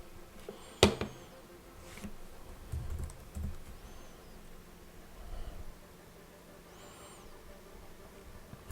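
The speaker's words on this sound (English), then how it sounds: "So I'm typing here" Typing on a computer keyboard while working in Acumatica ERP development software: faint, sparse key clicks and taps at close range in a quiet room, with one sharper click near the start.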